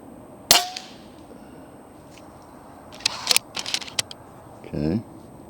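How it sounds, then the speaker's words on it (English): Umarex Zelos .25 caliber air rifle fired on an outdoor range, one sharp crack near the start followed by a few quieter clicks and handling noises, with a short spoken remark near the end. "We'll do like 4 or 5 shots, something like that."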